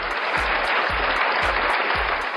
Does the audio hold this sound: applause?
yes